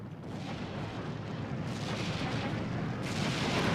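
Off-map artillery strike in the WWII strategy game Steel Division 2, a continuous rolling barrage of booming impacts and rumbling blasts that stays dense and loud throughout, swelling slightly toward the end, with no voices.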